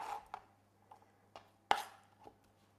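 An apple being chopped into small pieces, with a few sparse, quiet knife taps on a board, spaced irregularly, and one sharper, louder chop near the end.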